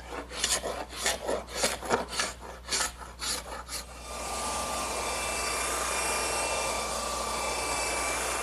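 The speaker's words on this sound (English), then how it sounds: "and sand it" Sanding a glued-up wooden table top: about eight rhythmic rasping strokes, then a steady, loud whir of a power sander running continuously, with no talk.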